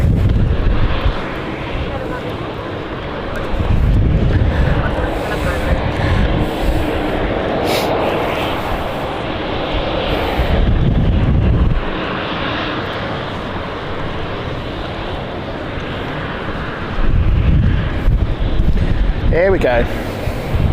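Airplane taking off at London City Airport in a storm, its engine roar surging and fading amid heavy gusts of wind buffeting the microphone, with people talking over it.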